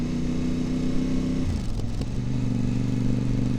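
A Voge DS 800 Rally motorcycle with a Scorpion exhaust, baffles removed, cruises in second gear at about 25 mph, a loud, steady, close engine drone with a slight pitch shift midway.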